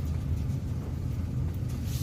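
Pickup truck in four-wheel drive creeping slowly down a snowy road on a 20-degree January morning, a steady low engine rumble and drivetrain drone with faint wind noise, continuous and close.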